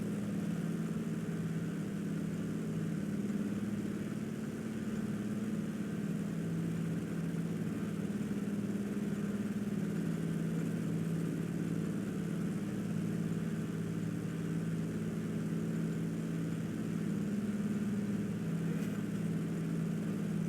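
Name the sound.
light aircraft engine running while configuring for landing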